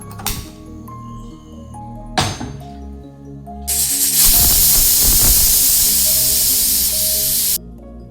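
A pressure cooker holding beetroot with sugar, cardamom powder and a little water vents steam in one loud, sustained hiss lasting several seconds, after a few sharp clicks and knocks in the kitchen.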